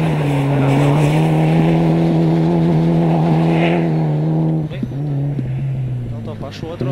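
A car on Pirelli tyres revs hard in a low gear and slides, its engine drone loud and steady before dipping and surging again, with an instructor's voice talking over it.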